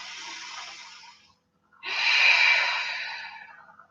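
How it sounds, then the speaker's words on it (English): Deep breathing during a yoga flow: two full, close breaths, a long airy exhale, a short pause, then a stronger, steady breath that slowly fades, with no talking. "take 2 more full deep breaths"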